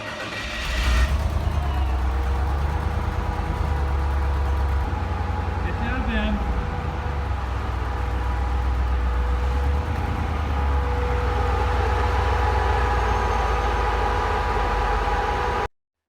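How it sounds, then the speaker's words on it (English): A four-seat rockcrawler's engine runs for the first time, a steady loud low rumble close by that holds throughout with faint mechanical whine, while a person speaks over it. "Here's the kid starting it up for the first time."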